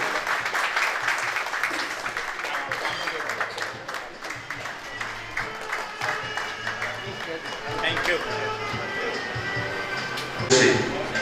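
An audience at an association's Corona Warriors honour ceremony in Amreli applauds in sustained, dense clapping that carries on throughout, with a loudspeaker voice talking over it.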